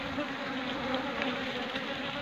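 Dense, steady buzzing of many drone honeybees close by at a hive box, a continuous hum with no pauses.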